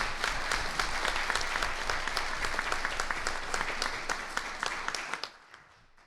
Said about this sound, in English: a round of applause by all of these attendees